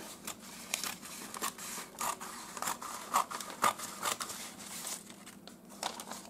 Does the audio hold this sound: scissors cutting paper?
yes